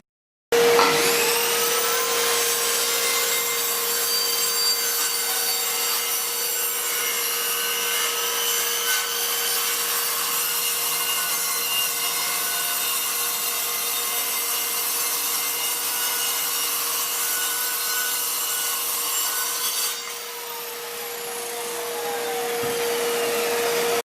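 A saw cuts through timber while shaping wooden steps, a steady, loud rasping whine that holds for about twenty seconds and then eases off, close and uninterrupted with no voices.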